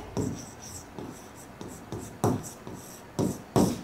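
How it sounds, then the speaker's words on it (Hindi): Pen or chalk writing on a board during a place-value lesson: repeated soft scratchy strokes, several distinct bursts close by and fairly quiet, with no talking. "चलो यहां पे लिख देते हैं"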